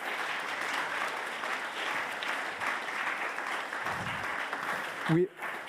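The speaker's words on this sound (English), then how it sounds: "So a big hand of applause for our experts." Audience applause for the expert panel at a green-transition financing discussion, steady dense clapping filling the room for several seconds before a brief voice cuts in near the end.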